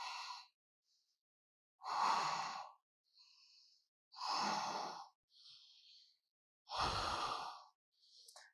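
Slow, deep breaths while holding a plank in a hatha yoga session, with long airy exhales and softer inhales alternating close to the microphone in otherwise quiet surroundings.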